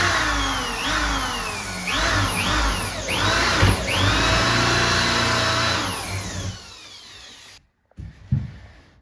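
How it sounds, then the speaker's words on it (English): A power drill whines loudly through several rising and falling bursts as it bites at an angle into a wooden wall stud, then cuts off, followed by a few brief knocks. "I drill at a little angle to make sure I'm going into the stud"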